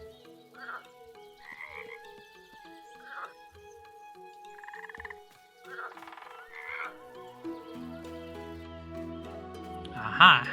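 Frogs croaking in a small, peaceful bog with dragonflies: repeated rasping croaks in irregular bursts, moderately close over a quiet backdrop, with soft music or tones layered underneath and no speech.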